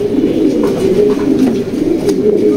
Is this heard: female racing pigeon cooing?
yes